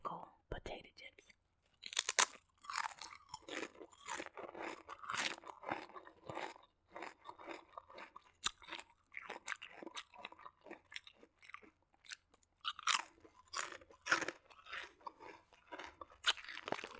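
Loud, close crunching of dill pickle Lay's potato chips being bitten and chewed in quick irregular bursts, with faint mouth noises and breaths between.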